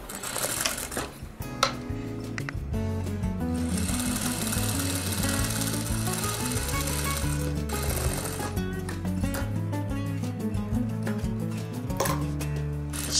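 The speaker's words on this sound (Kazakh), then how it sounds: "шетіндегі тігісін айландырып жабық күйде тігіп аламыз" A sewing machine runs steadily while stitching a kimeshek headdress, a continuous mechanical whirr with rapid rhythmic needle ticking after a few stuttering starts, close and fairly loud with no voices.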